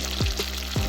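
Minced meat (keema) dropped into a pan of golden fried onions, giving a short sizzle with two soft thuds as the mince lands, close and steady with no talk.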